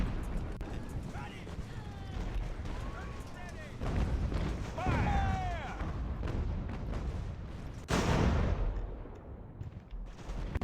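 Musket volleys and cannon fire from the Ultimate Admiral Age of Sail video game, a dense rolling crackle of gunfire with booming blasts and distant shouts. Someone talks over it throughout.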